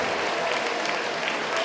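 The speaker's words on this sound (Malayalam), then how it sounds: "കൈയടിച്ചൊന്ന് സ്തുതിച്ചോ" Congregation clapping in praise during a church worship service, dense steady hand claps filling the room at close range.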